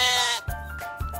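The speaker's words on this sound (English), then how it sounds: "I see a black sheep looking at me." A sheep bleats as a sound effect, one drawn-out bleat followed by two short wavering calls, close and clear with no talk.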